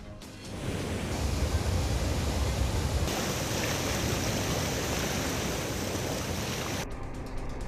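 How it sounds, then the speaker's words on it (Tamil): Athirappilly waterfall near Thrissur roars as a dense, continuous rush of falling water, loud and steady throughout with no voices. "திருச்சூர் அருகே ஆர்ப்பரித்து கொட்டும் அதிரப்பள்ளி அருவி."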